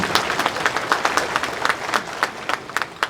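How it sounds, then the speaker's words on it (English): Audience applause for Sherry Cruz at a Hmong American 50 years of freedom celebration: a steady wash of many hands clapping, moderately loud and continuous for the whole stretch, with no voices over it. "give her a round of applause, Sherry"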